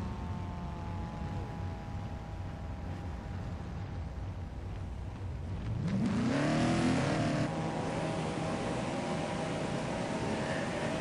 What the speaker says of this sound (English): Everybody on the throttles now trying to get off of pit road.